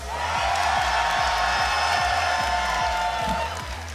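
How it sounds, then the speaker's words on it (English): A packed Swedish crowd at a Tekken 8 World Tour top-four match roars and cheers in a loud, sustained wall of noise, with rhythmic clapping pulsing underneath before the cheer tapers at the end. "Sweden, if you want EyeMusician to win, make some noise"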